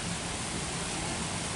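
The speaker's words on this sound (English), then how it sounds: "My lovely view outside my hotel window, and it's raining." Steady rain falls outside a hotel window in Nassau, Bahamas, heard as a constant, even hiss of dense drops with no pauses.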